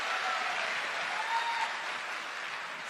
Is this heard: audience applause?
yes